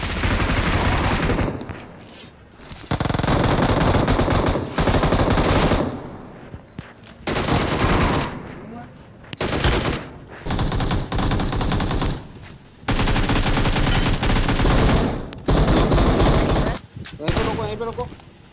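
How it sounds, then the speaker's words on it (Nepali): Automatic weapons rattle in loud, repeated bursts during a BGMI battle royale match, each volley lasting a second or two and separated by short pauses, with occasional voices in between. "ऑटोमेटिक गोली चल रहा है"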